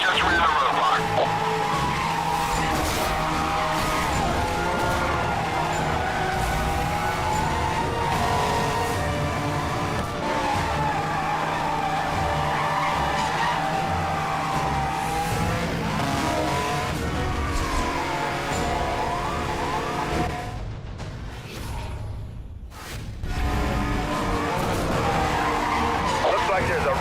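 Game cars roar and skid through a police chase, engines howling with repeated tire squeals over a dense, continuous racing din, briefly dropping out near the end before resuming.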